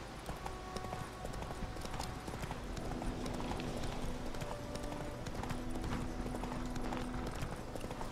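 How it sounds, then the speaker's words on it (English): Horse hooves pound at a gallop in The Witcher 3, a rapid, steady clip-clop rhythm close by and continuous, with faint game music tones and a brief whinny-like sound over it. "Just hold down shift and let the horse do its job"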